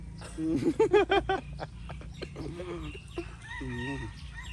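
A rooster crows once nearby at a home in Pattaya, Thailand, in a loud, rising-then-falling call, followed by softer clucking and other bird calls against a quiet rural background.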